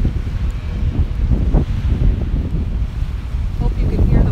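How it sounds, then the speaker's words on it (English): Ocean waves wash onto a beach at low tide in the morning, a continuous close rumbling surf with rolling swells and gusty wind noise on the microphone. "Hope you can hear the waves really nice."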